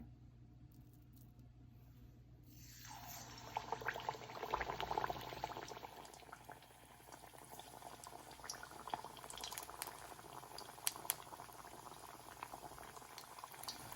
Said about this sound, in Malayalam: ഓയിൽ ഇവിടെ ചൂടായിട്ടുണ്ട്. ഇനി ഇതിലിട്ടിട്ടൊന്ന് ഫ്രൈ ചെയ്തെടുക്കാം.